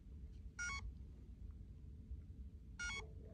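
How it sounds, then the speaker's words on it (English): Two short electronic beep bursts sound about two seconds apart over a quiet low hum, fairly faint. "It's beeping."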